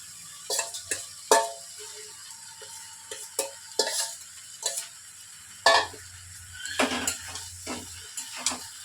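Fish roe frying in a pan with tomatoes, stirred often with a spoon: clattering scrapes and knocks against the pan come in irregular bursts over a faint sizzle, near and clear, with no talking.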